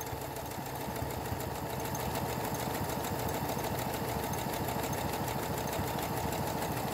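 A Brother sewing machine stitches a buttonhole with its attachment, a fast, even mechanical whir and rapid needle clatter running steadily and fairly quietly throughout.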